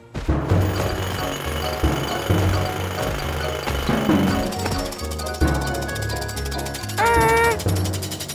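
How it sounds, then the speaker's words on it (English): A cartoon drill rattles and grinds continuously, loud and mechanical, with a brief rising whistle-like tone toward the end. "We need to stop that drill, Morphle."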